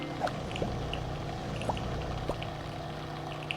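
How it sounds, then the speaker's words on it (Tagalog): Tap water runs continuously while dishes are washed, a steady close rushing stream with a few faint clinks of plates scattered through it. "Maghuhugas ng plato."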